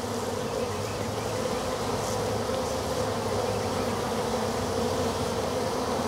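Dense, steady buzzing of a honey bee swarm during a capture attempt, many bees droning continuously and close by with no break throughout.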